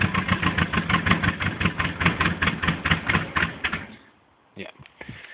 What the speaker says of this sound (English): So, not a happy engine in this one.